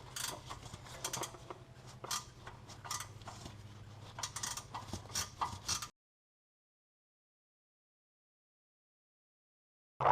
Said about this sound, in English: here's a 15 millimeter ratcheting end wrench